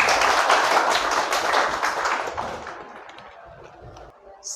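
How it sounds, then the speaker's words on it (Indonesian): A classroom of madrasa students claps hands together in a lively burst that gradually thins and fades out over a few seconds. "Nah, tepuk tangan untuk Mbak Naswa."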